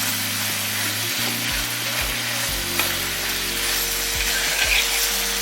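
Green chillies and vegetables sautéing for Kerala vadakkoottucurry, an Onam dish, give a steady close sizzle and frying hiss throughout, with scraping and stirring clicks from a spoon in the pan.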